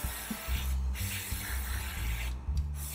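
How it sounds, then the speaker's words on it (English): An airbrush sprays paint onto a model Mosquito FB Mk. VI aircraft, a soft steady hiss broken by short pauses, heard up close and fairly quiet. "Airbrushing is not all that difficult"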